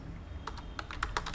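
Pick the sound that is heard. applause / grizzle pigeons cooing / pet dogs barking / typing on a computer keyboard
typing on a computer keyboard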